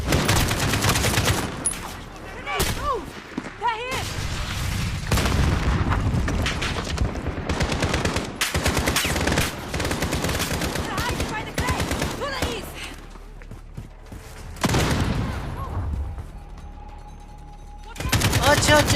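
Sustained automatic gunfire and booming blasts from a Call of Duty Modern Warfare battle, loud and dense with brief lulls, while someone talks over the shooting.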